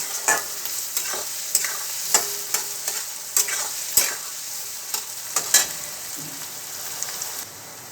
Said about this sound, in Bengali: এক চামচের মতন আদা দিয়ে দেবেন দিয়েটাকে একটু লাল লাল করে ভেজে নেব